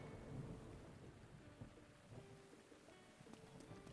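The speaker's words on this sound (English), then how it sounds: "I guess I'll hang around the stable for a bit until the lightning storm goes away." Thunder rolls through steady rain during a lightning storm in a Zelda video game, heard near a stable as a continuous low rumble and hiss with a few soft cracks and no talking.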